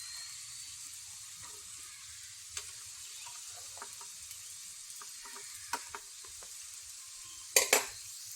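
Coated chicken frying in shallow oil in a pan gives a steady faint sizzle, with scattered soft clicks of a utensil and a brief louder scrape as the pieces are turned near the end.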